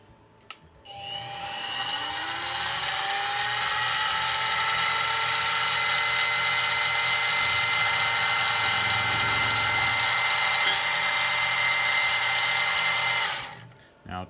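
A Harbor Freight mini mill cuts across metal stock, a steady high whining drone with a low hum that runs continuously for about twelve seconds before winding down.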